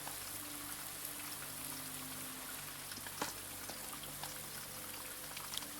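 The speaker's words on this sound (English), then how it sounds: "Love the sound of rain." Steady rain patters on a greenhouse roof in the video game Blue Prince, a dense, even hiss with scattered louder drops and a faint low hum beneath.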